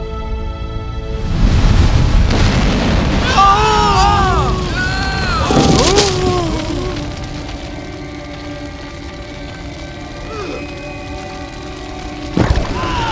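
Fire from heaven striking in an animated scene: a deep rumbling boom swells and crackles like a downpour, with shrill wailing cries layered over it, then a sharp final crack near the end.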